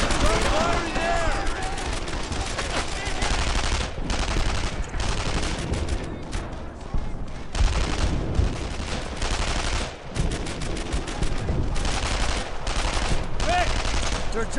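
Heavy, continuous gunfire in Brothers in Arms: Earned in Blood, with machine gun bursts and rifle shots in a World War II firefight against German troops, loud and relentless, while shouted voices break through the din.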